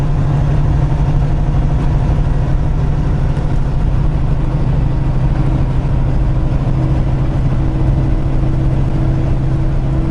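A truck engine drones steadily in heavy traffic on the Pennsylvania Turnpike, a constant low rumble from inside the cab with no breaks and no speech.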